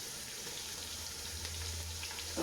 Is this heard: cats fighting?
no